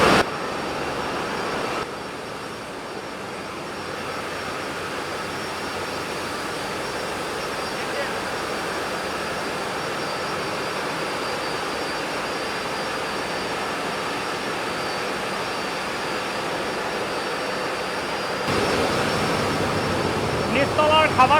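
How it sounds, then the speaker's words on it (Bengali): A steady, loud engine drone fills the engine room at the stern of the M Khan 7, a Dhaka–Barishal passenger launch, continuous broadband rumble throughout with no clear talking over it. "লঞ্চের একদম পিছনের দিকে ইঞ্জিন রুম"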